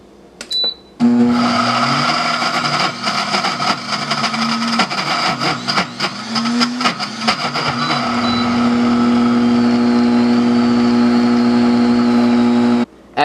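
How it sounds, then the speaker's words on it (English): A blender whirs steadily as it mixes apple pie dough with about half a cup of water, running loud and continuous for most of the stretch after a brief start, with uneven churning bursts early on before settling into a constant drone. "I'm going to start blending it again until it starts looking sticky"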